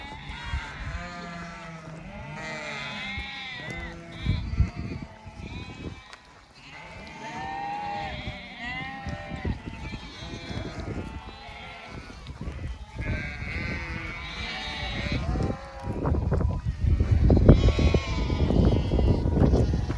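Many Akkaraman sheep bleat over and under each other in a large flock near Mount Ararat, some near and some farther off, with scattered voices and movement throughout.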